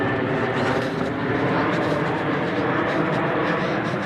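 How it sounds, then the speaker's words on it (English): A fixed-wing airplane passes over a residential American neighborhood, a dense, steady roaring drone that stays loud and unchanging throughout, with no talk over it. "It's a plane."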